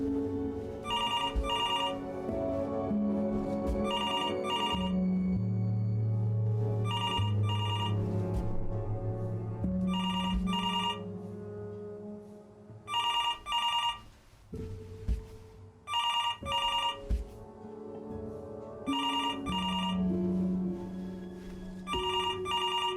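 A telephone rings in the video game Before Your Eyes, sounding repeated double bursts of bright electronic trilling at a steady rhythm over a sustained musical score, loud and close.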